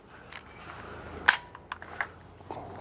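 A shotgun fails to fire on a dud shell, giving a sharp metallic click of the firing pin followed by a few smaller mechanical clicks and handling sounds, close and fairly quiet.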